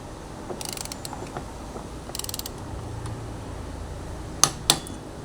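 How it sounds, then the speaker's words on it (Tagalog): A torque wrench set to 54 Nm tightens the clutch assembly nut on a Honda ADV 160 scooter, with faint ratcheting and creaking followed by two sharp, distinct clicks close together near the end. "So pag narinig nyo nagkiklik na yun, yun na guys yung torque valley na sinet nyo."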